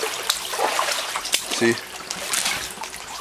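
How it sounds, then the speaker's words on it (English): Hurricane Irene floodwater, about a foot and a half deep, flows into a building as a steady trickling, splashing wash, with someone talking over it. "water is coming strong in."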